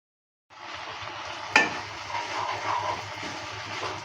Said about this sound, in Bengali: কালাই ডালটা দেওয়ার পর ভালো করে মেরে চেড়ে দিচ্ছি